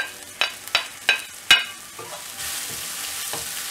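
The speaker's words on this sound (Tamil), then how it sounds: "நல்லா ஃப்ரை பண்ணிடலாம்." Tomatoes for a spinach kadayal frying in a pan, opening with four sharp spatula knocks against the pan before settling into a steady, moderately loud sizzle that continues alone.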